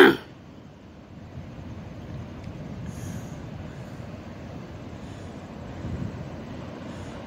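A train approaches on a fall morning outdoors, a low steady rumble of rolling wheels gradually building from a distance, with a faint squeal and a sharp knock at the very start.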